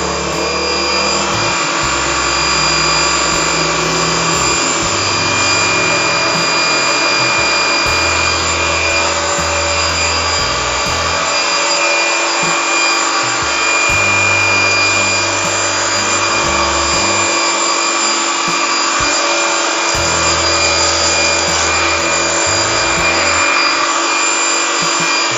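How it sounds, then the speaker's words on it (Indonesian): A high-pressure pump for AC steam cleaning runs continuously with a loud, steady mechanical whine and hum, its low motor drone pulsing in irregular bursts, close up and without voices. "Ini pompanya cukup kencang nih kawan"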